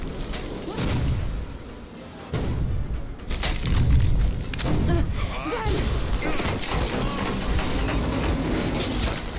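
Explosions erupt in the Metro video game, a run of loud booms and crashing blasts over a dense rumbling, rattling background, with brief voice fragments in the mix.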